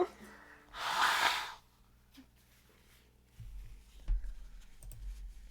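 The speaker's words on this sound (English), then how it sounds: "Blowing my nose again." A single loud, breathy nose blow lasting under a second, followed by quiet rustling and a few soft clicks and taps.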